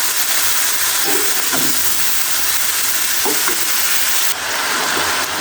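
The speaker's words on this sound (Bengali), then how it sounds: "এই ব্রোকলিগুলো এগুলোকে সুন্দর করে মিশাইয়ে নেড়ে করে ভেজে নেবে" Broccoli being stirred and fried in a pan, a loud, continuous close sizzle with dense hiss and a few soft spatula knocks, steady from start to finish.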